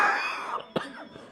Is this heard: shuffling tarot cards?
no